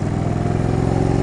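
An Indian Springfield motorcycle engine drones steadily at close range, its loud even hum holding after the throttle eases off.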